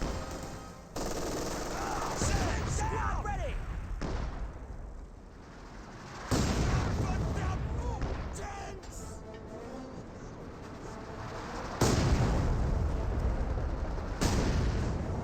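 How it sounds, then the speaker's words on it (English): Artillery barrage in the Company of Heroes 2 strategy game: repeated heavy booming blasts with dense gunfire crackle throughout, several loud shell impacts landing in sequence over continuous battle din. "As work for barrage raining on in."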